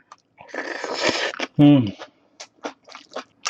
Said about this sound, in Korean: 무 씹히는 소리 들리시죠?